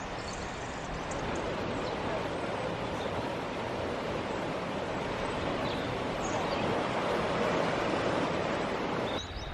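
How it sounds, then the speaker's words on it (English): Gentle water laps along the Cornwall coast in a soft, continuous wash of surf, steady and moderately loud with a faint breezy hiss. "Look at the gentle lap of the water, and the smell is so fresh."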